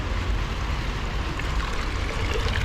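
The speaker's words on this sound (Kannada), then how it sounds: "ಗಿಡಕ್ಕೆ ನೀರು ಹಾಕಿದ್ರೆ ಗಿಡಗಳು ಚಂದ ಬೆಳಿತಾವೆ" Water is poured onto garden plants, making a steady, close rushing splash that continues without a break.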